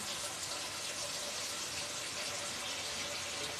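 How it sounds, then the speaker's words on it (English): A ladle rinsed under a running kitchen tap during Indian Chinese dinner prep, a steady, even gush of water with nobody speaking. "Gonna clean up my ladle"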